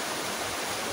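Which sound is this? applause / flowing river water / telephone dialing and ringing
flowing river water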